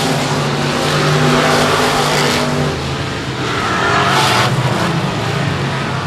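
Race cars roar around a speedway oval in a pack, a loud, dense engine wash that swells and fades as cars pass, with tire scrub and no voices over it.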